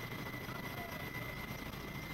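A coast guard rescue helicopter hovers over the sea in a steady, loud rotor and engine drone with a constant whine running through it.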